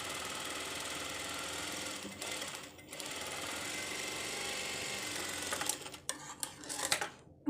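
A sewing machine stitches a hook strip onto a blouse. It runs in a steady, loud mechanical whir, broken by short pauses and a few stop-start bursts near the end.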